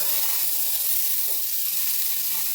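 A knob of butter sizzles in a hot pan while cooking chicken thighs in white sauce, giving a steady soft crackling hiss that runs evenly throughout with no talk.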